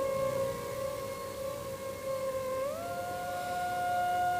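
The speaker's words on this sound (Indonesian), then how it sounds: "bunyi sirene yang berbunyi menandakan waktu istirahat telah" A work siren sounds to end a rest break: a sustained, steady wailing tone that bends upward partway through and holds at a higher pitch, moderately distant and alone over a low background rumble.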